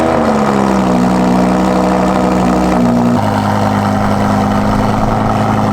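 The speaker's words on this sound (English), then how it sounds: "we're gonna do a cold start and then we're gonna take you for a spin" Supercar engine after a cold start, a loud steady idle with strong low harmonic tones that shift and step down partway through, running continuously with no talk.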